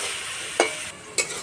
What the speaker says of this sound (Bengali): তেলটা গরম হয়ে গেছে, সব সবজিগুলো আমি একসঙ্গে ভেজে নেব।